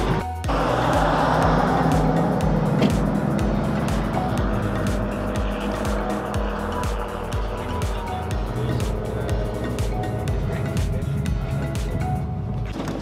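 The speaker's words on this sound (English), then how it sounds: "All right, just driving over Notley Dam here in North Georgia." A Jeep Wrangler JL drives across Notley Dam in North Georgia, its engine and tire roar steady and loud from the cabin for the whole stretch with no talking.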